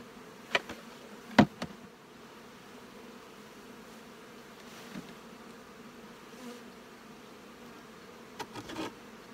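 Honey bees buzz steadily inside a queen cell builder hive box being stocked with bees, a continuous close drone with a few sharp thumps and knocks at the start and end.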